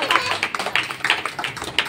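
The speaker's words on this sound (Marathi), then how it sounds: "टाळ्या वाजवा." Audience at a gathering clapping their hands, a ragged run of sharp claps that rise and fall in quick uneven bursts for a couple of seconds.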